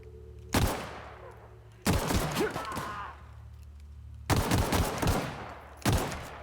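Gunfire in the video game The Outer Worlds, with four loud bursts of rapid shots separated by brief pauses, each tailing off with echo.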